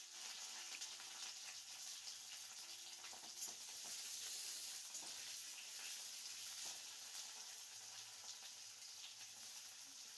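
Tempering spices and chopped garlic fry in a pan for chilli paneer, giving a steady, close hiss and sizzle with faint stirring scrapes throughout and no talking.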